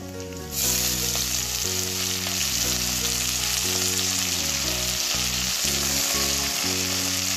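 Fenugreek leaves hitting hot oil with green chillies in a pan, a loud steady sizzle that bursts in suddenly and holds, with clinking of a utensil, no talking.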